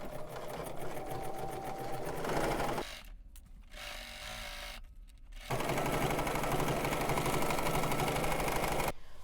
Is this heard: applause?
no